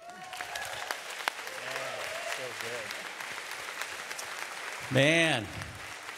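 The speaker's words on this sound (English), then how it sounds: "I think that was a nice, polite golf clap" Scattered, polite applause from a church congregation, a light steady patter that stays modest in volume, while someone speaks over it and a whistle-like tonal sweep cuts in briefly near the end.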